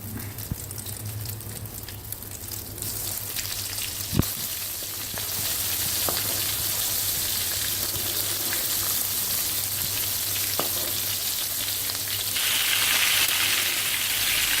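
Stuffed bitter gourd (karela) frying in hot ghee makes a continuous, even sizzling hiss with a few faint clicks, close and unbroken and growing slightly louder toward the end.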